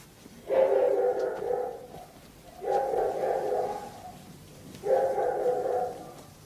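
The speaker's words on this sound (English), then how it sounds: "Quiet, dog. You'll wake up the whole house." A dog barks at night in three long, drawn-out bursts spaced evenly apart, somewhat distant and muffled, with quiet in between.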